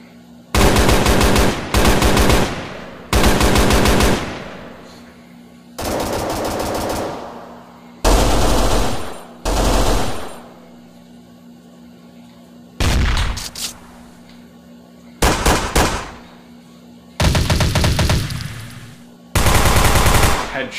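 Automatic gunfire from a modded weapon in a video game, delivered in repeated loud bursts of rapid shots separated by short silent gaps, close and punchy.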